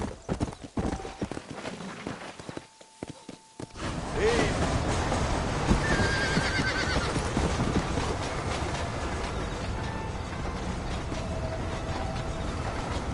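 A horse in Red Dead Redemption breaks into a ride, its hooves clip-clopping in a fast steady rhythm, close and loud, after a few scattered opening steps and clinks, with faint voices beneath.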